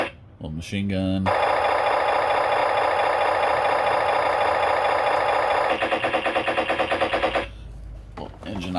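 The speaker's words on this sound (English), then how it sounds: "Little engine idle noise." A Ninja Turtles Super7 toy's electronic engine idle loop, a buzzy pulsing drone that runs steadily and then stutters into rapid pulses before cutting off.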